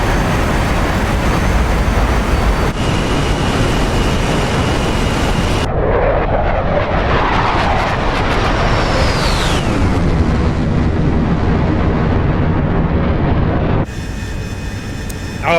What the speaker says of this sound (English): Oh, the MiG-21 just flew by me.